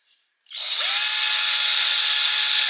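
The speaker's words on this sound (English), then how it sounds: "I'm going to drill right down through here." A power drill bores down through a basswood bottle stopper being carved, starting abruptly and running loud and steady for about two seconds at close range, with no talking.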